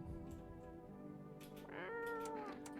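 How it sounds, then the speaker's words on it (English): Close, clear cat meows, two or three drawn-out calls rising in pitch, with a longer wavering cry near the end, alone without talk. "Cat."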